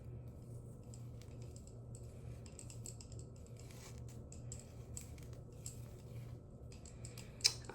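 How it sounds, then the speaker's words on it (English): Scissors cutting hair out of knotless braids: soft, close-up snips and small clicks over a low steady hum, with a couple of sharper snips near the end. "So we're going to cut some more"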